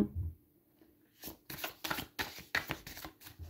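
Oracle cards riffled and shuffled by hand for a reading, a quiet start building into a series of soft papery bursts and flutters, close and alone with no talking.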